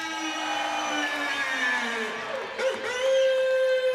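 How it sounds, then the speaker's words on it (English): A crowd roars and cheers with whoops rising through the noise, loud and sustained in a large hockey arena during a playoff game, while a horn-like tone sounds over it. "Listen to that crowd."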